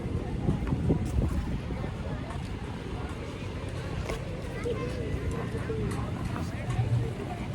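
Continuous wind noise rumbles across the microphone throughout, with faint voices and distant activity in the background.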